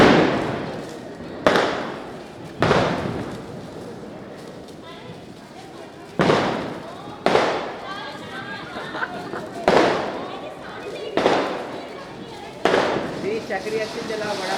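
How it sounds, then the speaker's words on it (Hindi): Chakri spinning fireworks and firecrackers go off at a Diwali celebration, a series of loud sharp bangs spaced every second or two, each trailing into hiss and crackle, with voices chattering between them. "चक्री अच्छी चलाओ, बड़ा बड़ा।"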